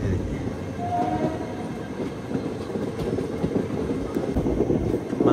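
The Hyderabad Deccan–Purna Express (17647) at Begumpet railway station in Hyderabad gives a steady, broad rumble of rolling wagons with faint clattering, heard continuously at moderate loudness.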